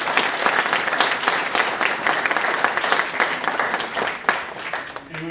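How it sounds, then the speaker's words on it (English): Steady, dense applause fills a town council meeting room, many hands clapping at a sustained level for about five seconds with a faint murmur of voices underneath. "we'd like to thank them with a great round of applause to both"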